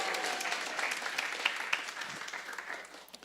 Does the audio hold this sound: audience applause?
yes